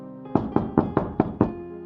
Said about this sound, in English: There is another knock at the door.